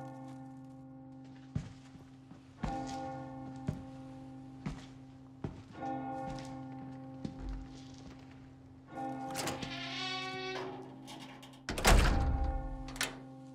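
In the Resident Evil 4 Remake demo, a church bell tolls repeatedly with sustained ringing tones, mixed with heavy in-game thunks and impacts, building to a louder clash near the end.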